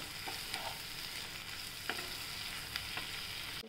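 Garlic sizzling and frying in a pan with coriander and turmeric powder being stirred in, a continuous hiss with occasional scraping of the spoon, no talking.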